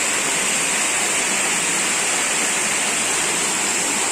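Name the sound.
Turga waterfall, water falling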